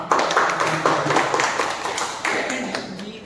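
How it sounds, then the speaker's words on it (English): Applause from a small club meeting crowd, a steady patter of many hands clapping close by that lasts the whole moment and tapers slightly at the end. "I think we can have a round of applause for that."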